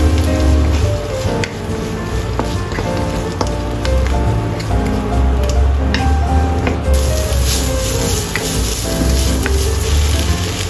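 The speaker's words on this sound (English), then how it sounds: "Stir-fry onion until translucent." Onion sizzles loudly as it is stir-fried in a pan, a dense continuous crackle with frequent sharp pops and spatter as the pieces are tossed and stirred, close and unbroken.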